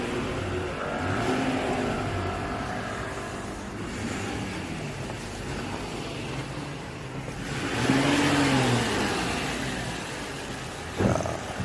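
An SM7 car engine hums and revs steadily during a test drive after a combustion-chamber cleaning treatment, its pitch swelling and falling across several rises, ending with a sharp knock.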